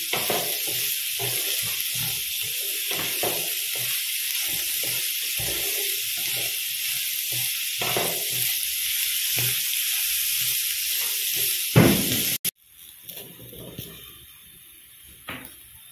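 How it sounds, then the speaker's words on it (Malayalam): Chopped onions sautéing in a pan for a Spanish omelette, giving a steady hiss and sizzle with soft stirring strokes, then cutting off abruptly to a quieter background. "സവാള ഇട്ട് കൊടുക്കാം. അതും ഒരു 2-3 മിനിറ്റ് വഴറ്റിയെടുക്കാം."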